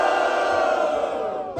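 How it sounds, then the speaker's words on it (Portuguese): A rap battle crowd at a semi-final street battle roars with loud cheering and shouting, a dense sustained burst of many voices that tapers at the end. "Barulho quem gostou das rimas de Krauk, AJ!"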